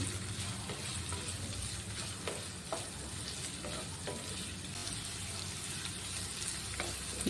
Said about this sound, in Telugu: ఇందులో మనం కట్ చేసి పెట్టుకున్న ఆనియన్స్ని కూడా వేసుకోవాలి వీటన్నిటిని బాగా ఫ్రై చేసుకోవాలి